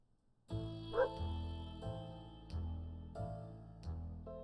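Pancake the dog in the survival game 60 Seconds yips and barks in a few short, close bursts over a steady musical backdrop.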